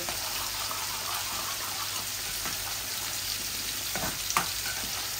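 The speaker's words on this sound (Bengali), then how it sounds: "অনিয়ন, রসুন আর কালো জিরা আমি একসাথে ভাজছি আলাদা প্যানের মধ্যে" Onion, garlic and black cumin (kalo jeera) frying together in a pan, a steady, moderate crackling sizzle with a few sharper pops and spatula scrapes.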